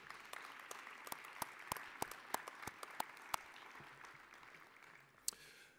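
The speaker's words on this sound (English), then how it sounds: "Would you give a round of applause for Craig Hoekstra?" Scattered applause at a college commencement, a faint crowd wash punctuated by a series of sharp, near individual claps that thin out and fade.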